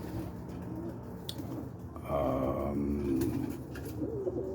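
Blue checker bald-head Hardesty pigeon cooing in a loft, a soft low burbling coo in the middle of the clip over a murky background of rustling and faint bird sounds.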